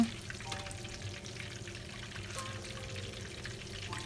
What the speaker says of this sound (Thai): ทำแบบนี้ไปเรื่อยๆ ระหว่างที่เราทอดปลาค่ะ